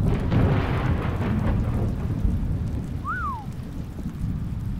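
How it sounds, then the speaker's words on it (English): Thunder and steady rain from The Stanley Parable video game: a low rumbling roll of thunder over continuous rain noise, loud and close throughout, with a brief rising-falling tone partway through. "that thunder and rain is in the game"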